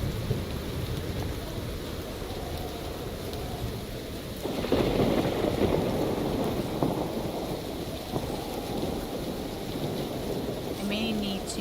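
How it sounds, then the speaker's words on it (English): Steady video-game rain patters on a copper roof in a fantasy building game, a dense continuous hiss that swells louder midway, with a light tinny edge and no voices over it. "you hear the rain hitting the, like, copper? The little, like, tin sound?"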